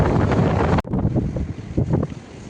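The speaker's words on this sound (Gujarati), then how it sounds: "એટલો મસ્ત પવન આવે છે બહુ મજા આવે છે દરિયેથી" Steady wind blowing in from the sea roars across the microphone with a low rumbling buffet, briefly cutting out before resuming, with faint distant sounds underneath.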